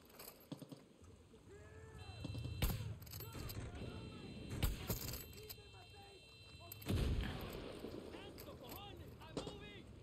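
Gunfire from a gun in the video game Far Cry 6, several sharp shots at irregular intervals over a busy in-game soundscape, with a voice talking now and then between bursts.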